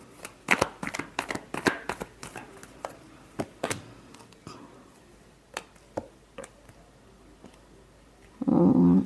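Tarot cards being shuffled in a final shuffle, a run of crisp, irregular riffling flicks and taps close by, thinning out toward the end before a short burst of louder noise.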